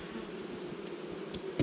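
Honeybees at a hive during a honeycomb harvest, a soft, steady droning buzz heard at close range, with a few faint knocks and clicks near the end.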